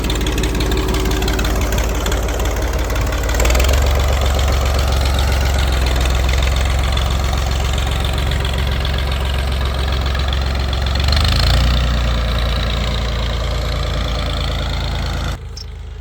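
A new tractor's engine runs at a steady idle with a slightly knocking chug, close and loud with no talk, before cutting off abruptly at the very end.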